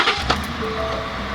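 A truck engine turns over and starts, then settles into a loud, steady idle rumble with a faint whine, heard close and with no talk.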